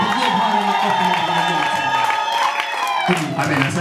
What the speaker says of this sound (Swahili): Hebu mshangilie kwa makofi